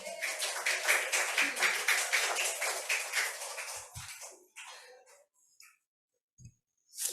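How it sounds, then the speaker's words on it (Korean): A Sunday-service church congregation claps after a Bible reading: about four seconds of dense, steady applause, then a few scattered claps and near silence. "성경 봉독하고 나서 박수 치는 거 처음인 것 같은데"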